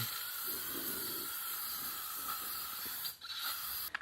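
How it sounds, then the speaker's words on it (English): Aerosol can spraying flat black paint and primer inside a rusty old metal toolbox, a quiet continuous hiss with brief pauses near the end, no talking. "I'm gonna spray the inside and then I'm gonna also prime the bottom."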